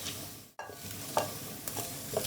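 Potatoes frying in oil during an Eid cooking show, a soft, steady sizzle with a couple of scraping stirs, heard close and alone over a short stretch.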